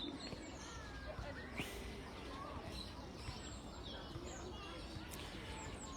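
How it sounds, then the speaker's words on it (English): Birds in a garden aviary chirp and coo, scattered short calls and tweets over a steady ambient background hum, fairly faint and at a distance. "we'll leave you with the birds"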